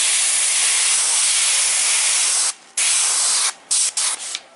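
Airbrush spraying silver paint onto a 3D printed figure: a steady, close, loud hiss that cuts off briefly, then returns in several short bursts near the end, with no talking.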